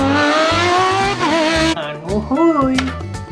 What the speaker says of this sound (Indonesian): mobil balap kawan-kawan